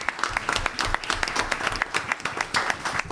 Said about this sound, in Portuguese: Salve de palmas para o nosso Tange.